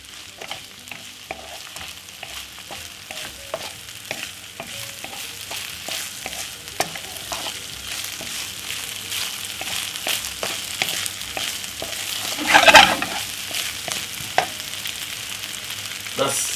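Salmon fried rice with vegetables stir-frying in a pan over medium heat: a steady sizzle with repeated stirring scrapes throughout, and one louder clatter near the end.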